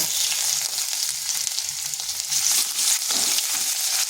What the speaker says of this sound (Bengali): আর ওই তেলের মধ্যে ফোড়ন দিচ্ছি কালো জিরে, 2টো কাঁচা লঙ্কা, 1 চিমটে হলুদ আর দিচ্ছি আদা